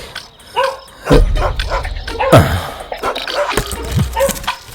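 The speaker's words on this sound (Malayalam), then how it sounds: "അയ്യോ, അടുത്ത വീട്ടിലെ പട്ടികൾക്ക് ഉറക്കമില്ലേ?" Neighbours' dogs bark at night, with several sharp barks and yips at irregular intervals from close by, mixed with whimpering under a faint background of movement.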